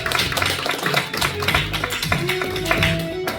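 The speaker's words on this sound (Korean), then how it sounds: "그 하나님께 영광의 박수로 하나님을 높이기를 원합니다." A congregation at a Korean church's Sunday morning worship service claps in steady rhythm along with music and singing, the sharp claps dense and loud throughout.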